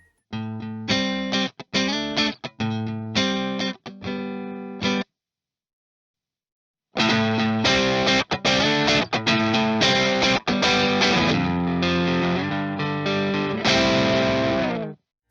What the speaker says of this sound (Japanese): いろんなバリエーションの歪みとか モジュレーションディレイ、リバーブぐらいまでの基本的なエフェクトは大体揃ってます。